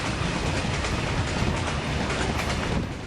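Kolkata's underwater metro train running through a tunnel about 32 metres below the Hooghly river, heard from inside the carriage as a loud, dense rumble of wheels on rails with rhythmic clatter.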